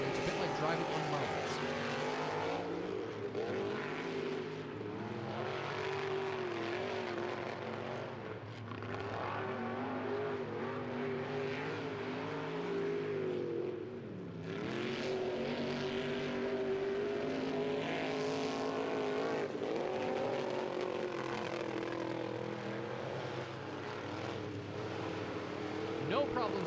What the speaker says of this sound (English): these drivers are putting in maximum effort just to keep their trucks on the track